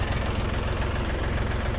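A YTO 244 SX tractor engine drones steadily while plowing wet field soil with a homemade single-bottom plough, a dense, continuous low rumble with no talk.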